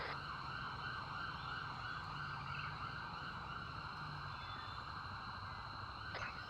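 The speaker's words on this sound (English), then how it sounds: "I'm hearing sirens right now." Emergency vehicle sirens wail steadily outside a hospital, a continuous rising and falling tone heard at moderate distance over constant road and traffic noise for the whole stretch.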